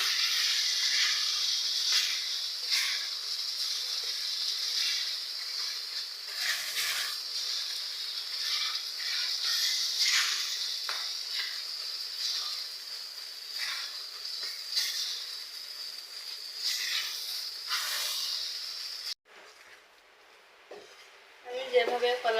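Banana peel paste frying in oil with spices for a raw banana peel bharta, a soft steady sizzle with scraping stirs, fading near the end into quieter clatter.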